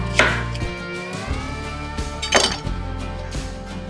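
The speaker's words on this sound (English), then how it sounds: "Going to take the onions, going to cut them in half." A knife slices through onions on a cutting board while preparing pork chops with carrots and onions: two or three sharp, close cuts spaced apart, over a steady tonal background hum.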